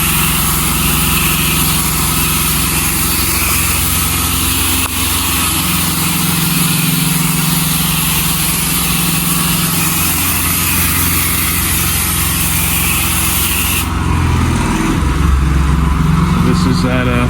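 Gas engine of a pressure washer runs steadily while restaurant tiles are cleaned: a loud, constant droning whine with a hissing spray layered on top, then the spray cuts off near the end and the engine keeps running with low rumbling.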